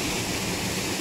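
A waterfall in a Punjab village roars loud and close, a dense, unbroken rush of falling water with no talking over it.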